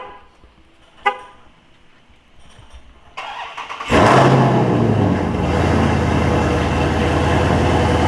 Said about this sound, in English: We got to give you that good old cold start with the car.